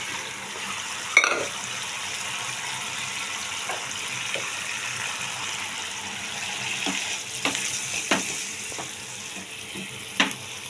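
A banana and mustard prawn dish cooking in a wok, a soft steady sizzle with scattered faint clicks and scrapes, no talking.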